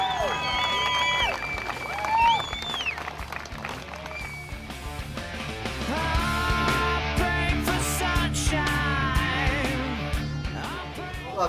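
A crowd at a motorcycle show applauds and cheers for five bike builders, a sustained wash of clapping mixed with music and voices.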